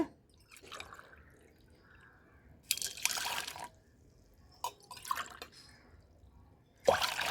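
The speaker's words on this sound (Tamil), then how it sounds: "ரெண்டு கிளாஸும் தண்ணி ஊற்றிடுறேன்" Two glasses of water poured into a pot come as short splashing bursts separated by quiet gaps with faint drips, close and fairly soft.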